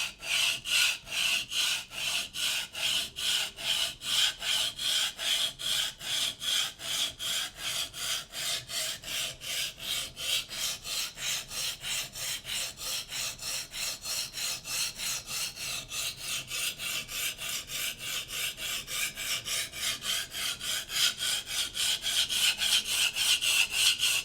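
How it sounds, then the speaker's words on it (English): A Shun kitchen knife drawn by hand across a sharpening stone in long, broad strokes, a steady rasping scrape repeating evenly about twice a second, close and clear with no talk, growing slightly louder toward the end. "going nice, long, broad strokes to really even out that cutting edge"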